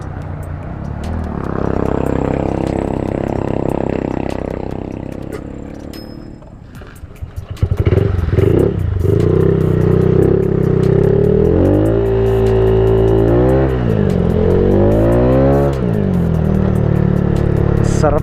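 Honda Click 59 big-valve scooter engine revving hard, rising and falling in pitch through several throttle blips, loud and close throughout with a brief dip midway.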